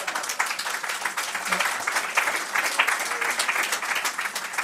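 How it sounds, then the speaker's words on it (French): Steady applause from a seated audience at a debate forum on seniors at work, many hands clapping in a continuous, moderately loud patter that holds evenly throughout. "Vous l'applaudissez"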